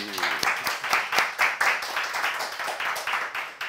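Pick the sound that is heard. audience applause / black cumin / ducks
audience applause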